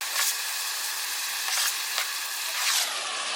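Onions and celery going into a hot pressure cooker give a steady, close frying sizzle with soft bursts of hiss as pieces hit the pot.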